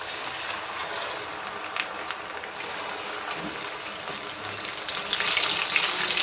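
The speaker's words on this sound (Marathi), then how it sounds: "खरपूस असे त्यांना तळून घ्यायची" Bombil fish fritters sizzle in hot oil over a low-to-medium flame, a steady close crackling hiss that grows slightly busier toward the end.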